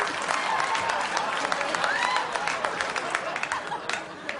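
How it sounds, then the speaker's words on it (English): Studio audience applause fills the room, dense and continuous with scattered sharper claps and murmuring voices mixed in. "Everyone claps."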